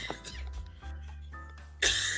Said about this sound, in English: while she is having a coughing fit